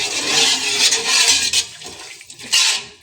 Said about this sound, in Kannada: ಈಗ ಇದಕ್ಕೆ ಸ್ವಲ್ಪ ನೀರು ಹಾಕೊಂತಾ ಇದ್ದೀನಿ.